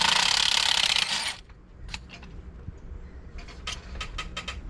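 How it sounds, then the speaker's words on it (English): A hand ratchet turns a bolt on a Ford F150 3.0 diesel engine, with a brief burst of noise followed by a run of quick, close metallic clicks in short groups. "Get the ratchet and take this the rest of the way off."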